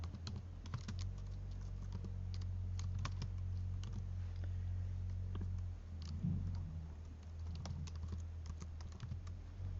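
Typing on a computer keyboard while filling in an online business incorporation form, a quiet steady run of key clicks in short bursts across the whole stretch with a faint low hum underneath.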